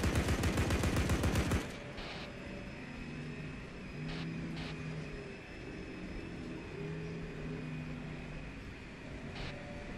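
Rapid, loud burst of vehicle-mounted machine gun fire in the video game Arma 3, lasting under two seconds, then a steady engine rumble with faint distant pops.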